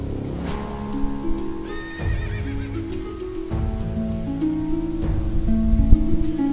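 Several horses in a video game neigh and whinny repeatedly, with strong tonal calls and clip-clopping hooves underneath, fairly close and loud, with rumbling game noise rising toward the end.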